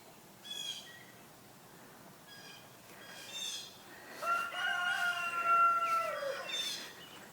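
Roosters crow outdoors, one drawn-out cock-a-doodle-doo rising clearly in the latter half after fainter calls earlier, moderately near against a quiet background.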